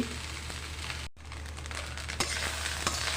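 Leftover rice frying in a pan gives a continuous close sizzle with scattered scraping ticks, and after a brief cut it grows slightly louder. A few faint stirring knocks come near the end, and no one speaks.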